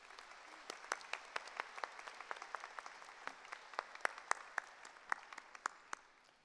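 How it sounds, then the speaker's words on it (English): Audience at a university graduate commencement ceremony applauds the platform party, fairly faint and distant, with sparse individual claps standing out over a soft wash of clapping. "Please join me with one more round of applause for the platform party."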